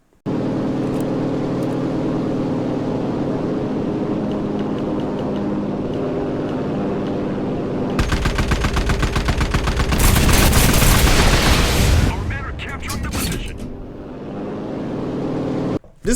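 A P-47 fighter plane in the video game Enlisted drones steadily, then bursts into loud, dense machine-gun fire lasting several seconds before the engine noise settles back, with no talking.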